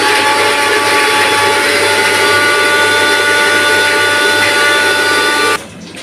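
A mixer grinder whirs loudly and steadily as it grinds mustard seeds into paste, a constant motor drone with a high whine that cuts off abruptly near the end.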